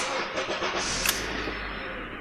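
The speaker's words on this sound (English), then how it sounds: "The vehicle started up." A Honda or Acura car engine cranks and catches on a new key, a brief sharp burst giving way to a steady low idle rumble under a constant broadband hiss.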